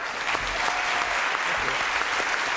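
Steady applause from a crowd fills the whole moment, dense and continuous clapping at an even level with no voices standing out.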